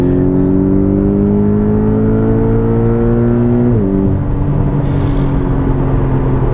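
Porsche 718 Boxster GTS engine revving hard as the car accelerates, a loud sustained rising drone that shifts gear once midway and keeps pulling, with no talk over it.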